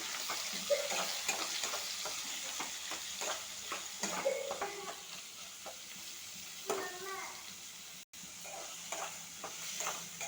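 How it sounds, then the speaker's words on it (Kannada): Onions and curry leaves fry in a pan with a quiet, steady sizzle, broken by scraping stirs and light clinks against the pan. "ಈ 5 ಮಿನಿಟ್ಸ್ ಚೆನ್ನಾಗಿ ಫ್ರೈ ಮಾಡ್ಕೋಬೇಕು."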